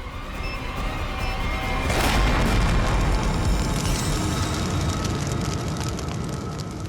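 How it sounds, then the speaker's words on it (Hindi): A bomb detonates during a TV crime drama episode, with a loud roaring blast that swells into a sustained rumbling, crackling wash of debris and fire that fills the whole stretch without any speech. "डायनामाइट बम से अलग करेंगे तो बम फट जाएगा।"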